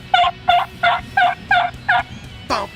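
A turkey call imitates a hen's yelp with a steady run of six evenly spaced, loud, close yelping notes, followed by a final higher, rising note.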